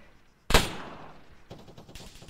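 Gunfire in ARMA 3: one sharp, loud shot cracks and echoes out, followed by a few softer, more distant pops.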